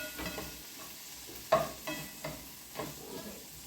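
Carrots, green peas, corn and white onion sauté in a pan for fried rice, with a soft sizzle and several scraping stirs of a utensil, heard up close.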